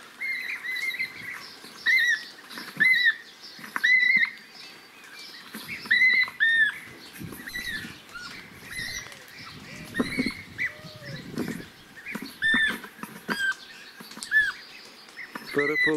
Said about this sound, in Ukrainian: поставлю поки що колонку з записом крику жаху щурки